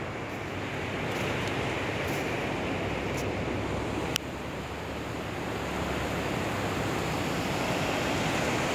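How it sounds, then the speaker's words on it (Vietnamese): On a morning at Vinh Hai beach in Hue, ocean waves wash in with a broad, continuous roar of surf. The sound stays steady and fairly loud throughout, and no one speaks. "Sóng vỗ."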